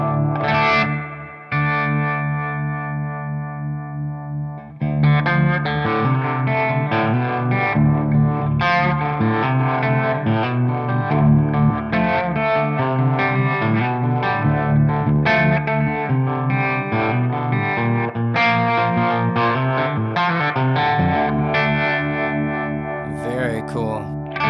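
Electric guitar through a Strymon Flint tremolo and reverb pedal, set to a slower, gentler tremolo, plays sustained chords and melody with a pulsing, reverberant wash, loud and continuous, with a brief break near five seconds.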